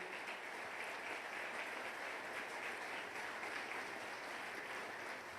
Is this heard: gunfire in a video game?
no